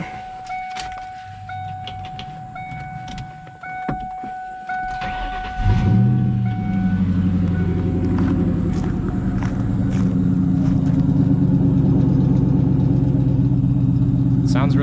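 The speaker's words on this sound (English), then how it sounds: "I'll just give you a quick startup of it, see what it sounds like" A Ford Mustang with a BBK off-road H-pipe exhaust cranks and fires up with a deep rumbling burst, then settles into a loud, lopey idle, preceded by clicks and a faint tone inside the car.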